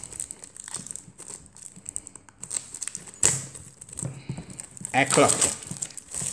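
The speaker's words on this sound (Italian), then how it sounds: "Apriamo la plastica." Plastic wrapping being torn and crinkled off a Japanese Matchless Fighters card box, close, irregular rustling and crackling bursts, with someone speaking briefly in Italian.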